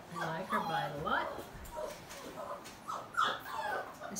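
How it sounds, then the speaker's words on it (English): An unhappy puppy in a video game whimpers and whines in high, wavering cries, close by, several short pitiful yelps over a few seconds with some speech mixed in. "Somebody is unhappy. Would you take the unhappy puppy and put her back up?"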